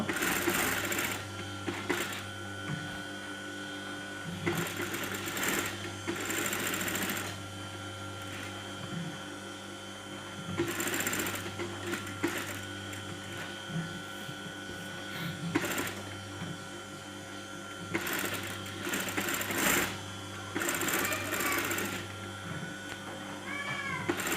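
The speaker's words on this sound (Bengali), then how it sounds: "যে ফিউজিং আছে সেই ফিউজিংয়ের উপর দিয়ে আমরা সেলাই করে দেব।" A sewing machine stitches over fusing on a kameez band collar, running in repeated bursts of close mechanical whirring with short pauses between them, along with steady background hum.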